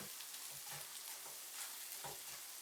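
Soft, continuous sizzling of red chilli powder and spices frying in oil for Gujarati ringan no oro (eggplant bharta), with light stirring and scraping sounds, close and quiet, no voices.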